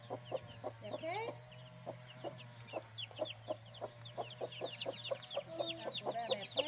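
A white chicken clucks in short repeated bursts close by, with other fowl and chirping birds in the background over a steady low hum.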